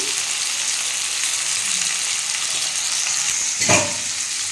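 Potatoes with turmeric fry in a pan, a steady crackling sizzle broken once by a brief clink of a utensil.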